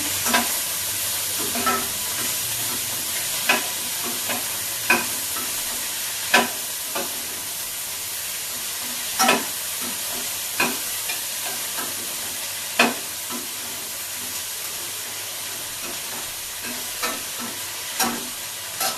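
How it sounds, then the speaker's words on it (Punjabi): Onions frying in a pan for an okra dish: a constant, close sizzle broken by regular sharp spatula taps and scrapes against the pan. "ਆਪਾਂ ਲੱਗਦੇ ਆ ਪਿਆਜ਼ ਭੁੰਨਣ"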